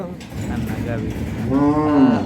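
A dairy cow on a farm lets out a single close, loud moo that swells and rises toward the end, with a low murmur of other farm sounds beneath it.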